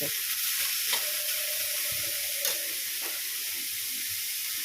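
Banana stem frying with mustard seeds in a home kitchen gives a steady, close sizzle with faint crackles and a couple of brief stirring knocks.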